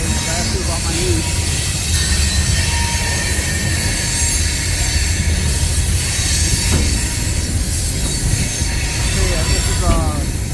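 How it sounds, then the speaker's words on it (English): A train rolls past in Durand, its wheels squealing in a few short high bursts over a steady, loud rumble of rail noise that lasts throughout. "What kind of train this would be."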